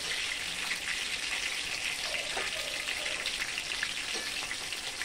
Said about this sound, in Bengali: পটলটা ভালো করে ভাজতে হবে